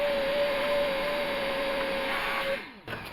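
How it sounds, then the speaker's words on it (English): A vacuum cleaner drones loudly and steadily with a high whine while cleaning an older Pontiac car, then cuts off abruptly near the end, leaving a brief thud and quieter hum. "I'm going to vacuum it before I put it in"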